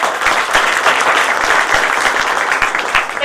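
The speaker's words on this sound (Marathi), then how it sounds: "त्या दोघाही पती पत्नींच्यासाठी आपण एकदा जोरदार टाळ्या वाजवा" A crowd at a women's honour ceremony gives loud, sustained applause, many hands clapping in a thick, even roar with a few sharper claps standing out, nearly free of speech.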